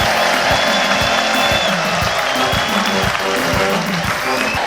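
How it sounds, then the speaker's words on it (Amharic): A church congregation in Johannesburg applauding during a service, a loud sustained wash of clapping over a regular rhythmic beat, with voices mixed in. "እስቲ ለመንፈስ ቅዱስ አጨብጭቡ እባካችሁ"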